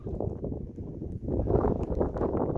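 Gusty wind buffets the microphone on a drizzly mountain trail along the Pacific Crest Trail, a low rumbling roar that swells and dips, growing stronger in the second half, with no voices.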